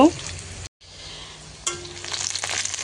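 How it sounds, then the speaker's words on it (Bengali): Onion, garlic and ginger stir-frying in a pan, a brief steady sizzle broken by a short gap, then stirring scrapes and a louder crackle near the end; a voice briefly opens the clip. "এখানে নাড়াচাড়া করে নিয়ে আরও একটু ভেজে নেব"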